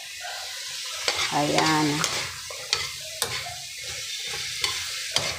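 Carrots and beans sautéing in a pan, a steady sizzle broken by sharp clinks and scrapes of a utensil stirring against the metal, with a short spoken word partway through.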